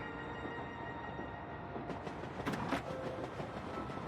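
A train rolls along the rails in the Switch game Paper Mario: The Thousand-Year Door, a steady rumbling ride with tonal hums, then some rattling clatter and a higher tone joining partway through.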